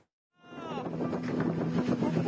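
Strong gusting wind batters festival tents at Sermo Reservoir in Kulon Progo, Indonesia, in amateur footage. A roaring rush of wind swells in after a brief silence, with flapping canvas and a steady low drone underneath.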